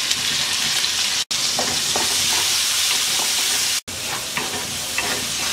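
Chopped onions sizzle steadily in hot oil with whole cumin seeds and a torn bay leaf, a dense close frying hiss with small pops and occasional stirring, cut by two brief silent gaps.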